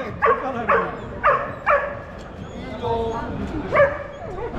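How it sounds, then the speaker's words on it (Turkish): Several dogs meeting in a historic German town bark and yip in short bursts, about five sharp barks spread across a few seconds over faint street background. "Hani köpekler birbirlerini görünce tanıştırmayı seviyorlar."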